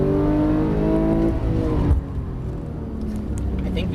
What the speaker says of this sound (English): squeeze the throttle all the way down to the orange cone